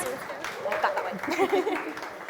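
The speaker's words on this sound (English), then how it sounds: "Round of applause for that." Audience at a student union results night gives a round of applause, a steady wash of clapping with chatter and voices mixed in throughout.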